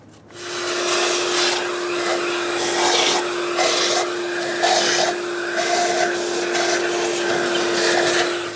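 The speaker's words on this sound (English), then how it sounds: "If you have access to a vacuum cleaner, go ahead and get all of this out of here." Vacuum cleaner whirring steadily while sucking sand and debris from the open intake manifold area of a 2003-2009 Dodge Ram 2500 with a 5.7L V8, a constant close drone with slight shifts as the nozzle moves.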